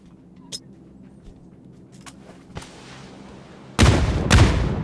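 A grenade explosion in the mobile battle royale game New State Mobile is a loud, broad burst that starts sharply partway through and rumbles to the end. Faint scattered game clicks come before it.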